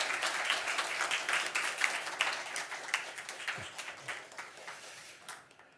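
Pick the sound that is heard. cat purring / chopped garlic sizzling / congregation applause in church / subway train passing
congregation applause in church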